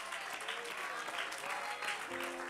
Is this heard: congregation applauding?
yes